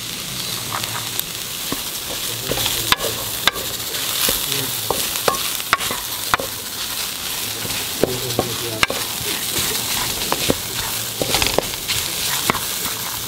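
Raisins and onion fry and sizzle in a pan for Kuwaiti machboos, a steady hiss broken by sharp clinks and scrapes of a utensil stirring against the metal.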